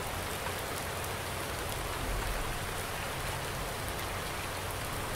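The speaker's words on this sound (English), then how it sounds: "I could hear that little bit of noise. I'm like, what's that noise? I'm like, oh, it's raining." Steady rain falls outside, a dense even hiss of drops on surfaces that runs unbroken throughout at moderate, slightly distant level, with no voices.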